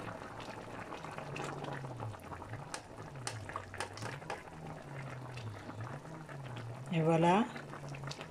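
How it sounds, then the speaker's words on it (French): Goat meat broth simmering in a pot, with a soft steady bubbling under a quiet background hum; a person speaks briefly near the end. "Je vais donc laisser bouillir au moins 10 minutes seulement parce que la viande elle est cuite"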